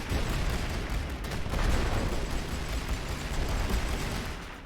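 Cannon tank firing in the World War I strategy game The Great War: Western Front, heard as a dense, continuous battle roar of overlapping gunfire and rumbling explosions at steady loudness throughout.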